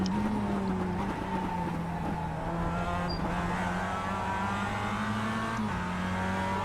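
A Mazda MX-5 Cup race car engine in the sim racing game iRacing drones steadily from the cockpit at Summit Point Raceway's Jefferson Circuit, its pitch dipping and rising as the driver lifts and reapplies throttle through a corner.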